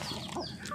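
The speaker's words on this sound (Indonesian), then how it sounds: "Wah, ayamnya banyak banget kawan-kawan." Free-range village chickens cluck briefly while being fed, a short burst of close, soft clucking with no talking.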